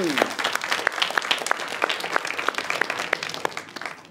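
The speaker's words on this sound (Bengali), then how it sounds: "সুন্দর সুন্দর, বন্ধুর জন্য জোরে হাততালি" Audience applause for a friend at a children's magic show, with dense, steady clapping sustained through the whole stretch and sharp individual claps standing out, fairly close and loud.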